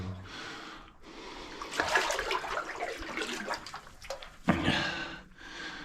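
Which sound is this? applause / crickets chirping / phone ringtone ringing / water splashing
water splashing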